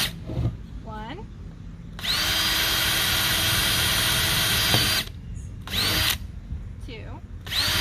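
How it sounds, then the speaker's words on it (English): A power drill bores holes through the side of a clear plastic tote in several bursts: one long steady whine of about three seconds, then shorter runs, with faint talk in the gaps between them. "I'm going to poke 3 holes on each side with this drill to allow airflow"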